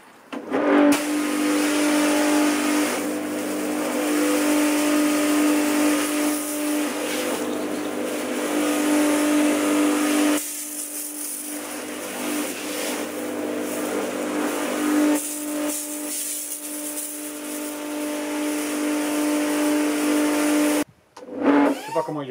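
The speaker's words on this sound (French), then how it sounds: "et puis après on attaque le canon à mousse" A foam cannon sprays a car during a home car wash, a continuous loud pressurized hiss that runs for long stretches, breaks off briefly midway, then resumes before cutting out near the end.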